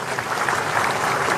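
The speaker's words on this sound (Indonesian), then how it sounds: "Tepuk tangan semuanya." Dense, continuous applause from a large crowd at a ceremony honoring special forces troops, a steady wash of many hands clapping with no break.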